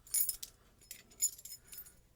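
ASSA ABLOY padlock keys jingle and clink together in a few quick, bright bursts, close up and fairly faint, against a quiet background.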